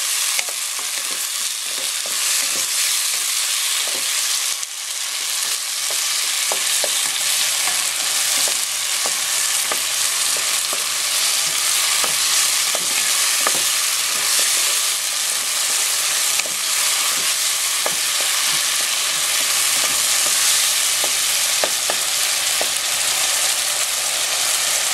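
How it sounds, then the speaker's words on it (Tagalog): Chopped tomatoes fry for a pork and ribs pochero, hissing and sizzling loudly and steadily in a pan, with frequent scrapes and taps of a stirring spoon layered over the constant crackle and no voices. "Then dito po, ilagay natin itong kamatis. Okay, lutuin po natin yung kamatis."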